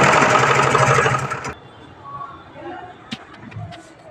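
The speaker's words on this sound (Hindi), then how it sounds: "तो हम पहले इसको सिलाई लगा लेते हैं ऐसे।" A sewing machine stitches lace onto an old sari being made into an Anarkali suit, whirring loudly and close for about a second and a half, then cutting off, leaving a quiet room with faint handling noises.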